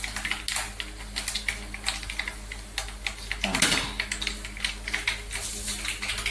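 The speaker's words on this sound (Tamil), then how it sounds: "இப்போ கடுகு பொரிஞ்சிருச்சு" Mustard seeds splutter in hot oil while cooking a tamarind curry, a dense run of sharp crackles and pops close by, with one louder sizzling burst partway through.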